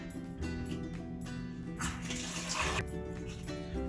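Water runs and splashes steadily while a tiffin box filled with water and soap is washed, a continuous broadband rush that swells in the middle, with a low background hum throughout.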